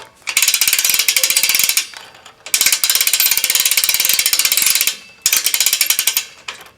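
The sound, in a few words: trailer winch ratcheting as strap is tightened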